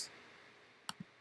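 A single sharp mouse click, with a faint second tap just after, closing out of a Blackboard Collaborate session on a desktop computer, heard alone against quiet background hiss.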